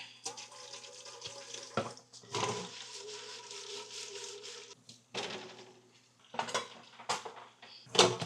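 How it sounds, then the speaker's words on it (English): Dishes and utensils being washed in a kitchen sink, with bursts of running tap water, clinks of cutlery and clatter of crockery coming in short separate spells, close and fairly quiet. "I will just wash up these little bits that I got, so I don't got much to wash up when I'm done"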